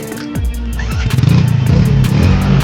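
A motorcycle engine revs and clatters close by as bikes are loaded for a boat crossing at a riverside ferry point, the motor rising and surging in uneven bursts over a busy background.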